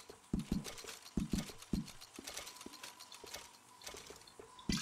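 Horse hooves clip-clop in a steady walking rhythm in the video game Red Dead Redemption 2, crisp close thuds repeating over a faint ambient background.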